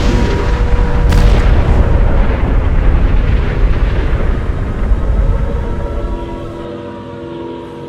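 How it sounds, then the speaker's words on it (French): Artillery shells explode during the bombardment of Caen, a loud deep rumbling roar with a sharp crack early on, then a long low boom slowly fading away. "Les obus tombaient de plus en plus près."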